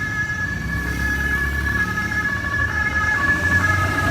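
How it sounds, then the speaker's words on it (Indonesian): An ambulance siren wails steadily over road traffic and engine rumble in a city street, loud and continuous from start to finish. "Ambulans."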